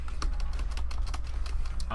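A keyboard clatters through rapid, irregular keystrokes while someone plays the arcade game The Typing of the Dead. The close, crisp clicks come in quick bursts and continue throughout.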